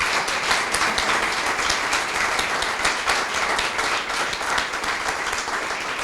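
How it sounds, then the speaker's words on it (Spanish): An audience at a library event breaks into steady applause, dense continuous clapping from many hands filling the room at moderate loudness for several seconds. "Un aplauso para ella."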